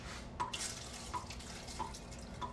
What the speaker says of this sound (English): Now I'm gonna pour in a little bit of water just to help it out